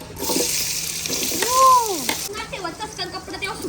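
Onion tipped into a pan of hot frying masala gives a steady broadband sizzle, with a brief tonal swooping squeal in the middle and some clatter near the end.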